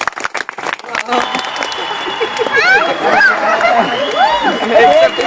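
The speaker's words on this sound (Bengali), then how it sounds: "একটা করতালি হয়ে যাক জোরে" An audience at a magic show claps and cheers loudly after a request for applause, with some chatter and shouting mixed into the crowd noise.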